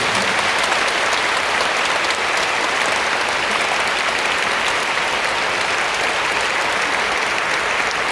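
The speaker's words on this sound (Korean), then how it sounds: "크게 박수와 함께 영광의 박수 올려드리겠습니다." A church congregation applauds loudly and steadily, a dense wash of many hands clapping without pause at a church anniversary service.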